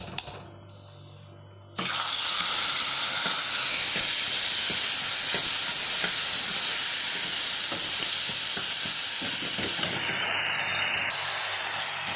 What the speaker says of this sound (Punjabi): ਇਹਨੂੰ ਸਾਰੀ ਪੇਸਟ ਨੂੰ ਚੰਗੀ ਤਰ੍ਹਾਂ ਭੁੰਨ ਲੈਣਾ ਸਰੋਂ ਦੇ ਤੇਲ ਵਿੱਚ